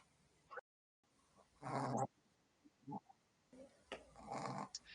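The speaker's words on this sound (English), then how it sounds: "she makes pig-like noises" A pet dog snoring with snorting, pig-like grunts in uneven bursts, close and fairly quiet, with short pauses between breaths.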